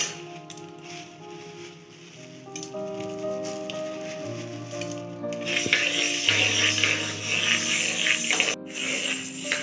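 Whole moong dal, about 400 grams, dry-roasting in a pan over low heat gives a steady close crackle and rustle like light rain, with faint music-like tones underneath.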